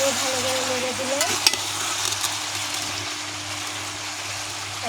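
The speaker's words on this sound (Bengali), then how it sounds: "আমি আবারও ভালো করে নেড়ে দিলাম।" Sour small-mango chutney is stirred in a pan, with a steady soft sizzle of frying and a spoon scraping and knocking now and then. The sound is close but fairly quiet.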